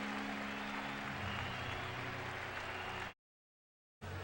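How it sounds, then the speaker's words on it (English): A stadium crowd at a Los Angeles Dodgers at Colorado Rockies baseball game applauds as pitcher Jeff Fassero walks off for reliever Travis Driscoll. The clapping is a steady, dense wash, cuts to brief silence, then returns. "he'll get a round of applause as Fassero walks off"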